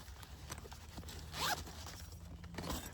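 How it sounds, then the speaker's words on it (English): A small zipper pouch from a cold-weather woodsman camping kit is unzipped in one close, scratchy pull that peaks midway, with faint rustling before and after and no talk. "Then I have this small zipper pouch here."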